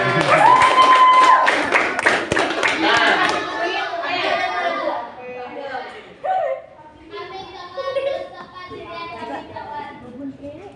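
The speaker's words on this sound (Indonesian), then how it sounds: "Baik, tepuk tangan." A classroom of students claps in a career guidance session, a short busy burst of hands clapping at the start, quickly giving way to a teacher and children talking.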